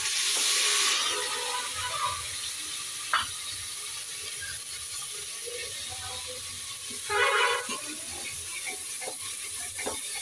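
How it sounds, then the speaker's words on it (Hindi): Onion paste frying in oil for an Indian home-style family dinner gives a quiet, steady sizzle, broken by a few sharp clinks and a short rush of stirring partway through. No one speaks. "ये प्याज है जिसका मैंने पेस्ट बना के रखा हुआ है, तो मैं ये डाल दूंगी इसमें।"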